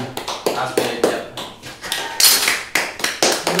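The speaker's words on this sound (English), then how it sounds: "Everybody, round of applause." A small crowd at a live gaming event gives a brief round of applause: a handful of sharp, separate claps close by, spaced out rather than a full roar.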